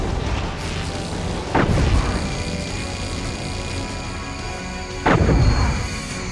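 Boss in a Transformers video game unleashing a missile barrage: two heavy booming blasts a few seconds apart over a continuous dense rumble of game noise, loud and close.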